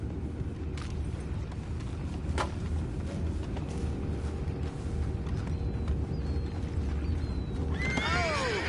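Horses neighing in Red Dead Redemption 2, a faint whinny early on and a clearer, louder neigh near the end, over a steady low ambient rumble.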